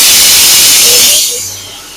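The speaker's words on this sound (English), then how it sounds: "That was not the switch. That was the pressure release valve." A loud, steady rush of air hisses from the pressure release valve of an air compressor in a work trailer, close and harsh, then drops in level and tapers off toward the end.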